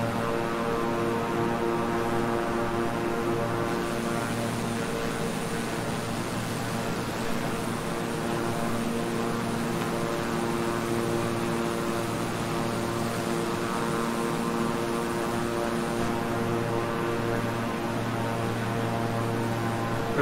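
The twin turboprop engines of a King Air 350i in Microsoft Flight Simulator drone steadily, with a dense layered hum and a hissing high whine that holds evenly throughout at cruise power.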